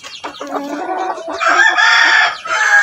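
A native chicken crows and clucks up close, a loud, drawn-out rooster-like call rising midway and continuing to the end, with no talking.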